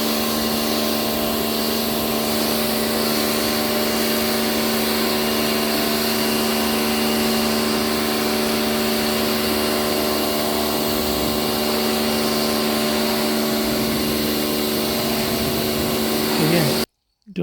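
A Karcher K2 pressure washer fitted with a Dirt Blaster power lance runs at a steady, loud droning whine with a constant pitch for the whole stretch, then stops abruptly at the end.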